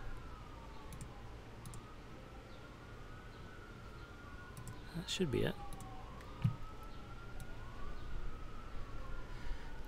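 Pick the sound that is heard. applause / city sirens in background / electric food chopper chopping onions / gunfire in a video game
city sirens in background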